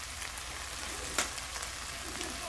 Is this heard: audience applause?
no